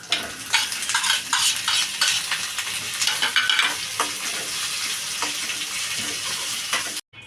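Tomatoes sizzle and fry in a pan for moong bean sambar, with repeated scraping and stirring strokes, close and steady, no talking.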